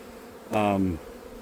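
A brief burst of honeybee buzzing at a hive during a spring inspection, a steady droning hum lasting about half a second before fading back to quiet background.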